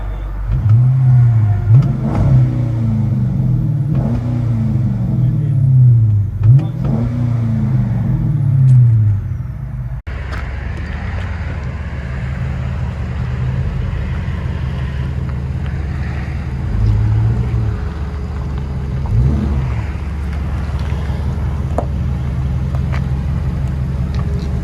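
Inside a Dodge Charger R/T with a 5.7L HEMI and a Flowmaster Flow FX exhaust, the cabin fills with a steady low drone, broken early by three rising-and-falling revs. No one talks.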